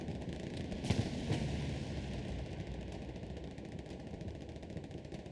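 Battlefield explosions and gunfire in the World War II shooter Hell Let Loose, with a pair of sharp blasts early on over a dense, continuous rattle of distant firing and rumble.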